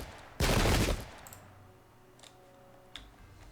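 Musket gunfire in the Pike and Shot video game, a single loud, dense burst of a volley up front followed by a quiet stretch with faint distant clicks and pops.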